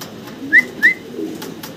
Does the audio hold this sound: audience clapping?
no